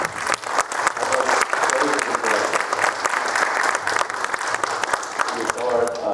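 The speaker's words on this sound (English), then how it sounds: "Another one of our applause, please." Audience applause at a campus speaker event on yoga at a medical center, dense steady clapping filling the whole stretch, with some voices and cheers mixed in.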